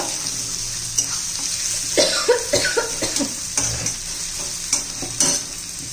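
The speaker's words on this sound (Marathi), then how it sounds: "आता बारीक चिरलेला एक कांदा घातलाय मोठा. कांदा चांगला परतून घ्यायचा आपल्याला कच्चेपणा जाईपर्यंत." A large finely chopped onion sautés in a pan, stirred with scraping strokes and sharp clinks over a steady close sizzle.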